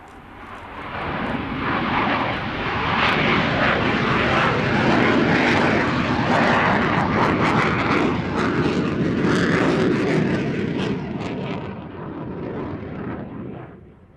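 A military fixed-wing aircraft of the 1st Tactical Squadron at Minsk Mazowiecki roars overhead, a broad, loud engine rumble swelling over the first seconds, holding steady, then easing slightly toward the end.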